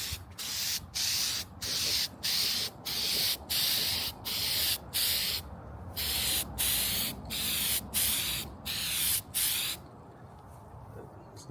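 Rapid bursts of spray hiss as a protective coating goes onto a third-generation Toyota 4Runner, about a dozen loud, steady pulses separated by brief pauses, ending in quieter background.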